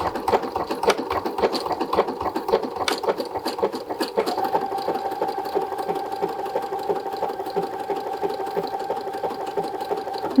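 A sewing machine stitches an inch or two of fabric for an inseam pocket with matching thread, a steady close mechanical whir with rapid needle ticking running throughout, slightly shifting pace partway.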